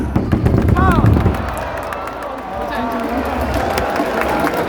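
Baseball stadium crowd during a Hanwha Eagles versus Doosan game, a dense roar of cheering and clapping with a cheerleader's amplified voice briefly over it.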